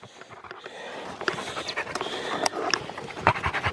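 A hunting dog pants rapidly and close by after a wild pig hunt, with quick rhythmic breaths that grow heavier toward the end, joined by small whimpers and rustling.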